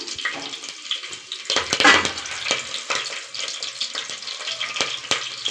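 Whole spices and green chillies crackle and spit in hot oil, giving close, uneven pops and sharp ticks over a steady frying hiss, with one louder burst of sizzling early on.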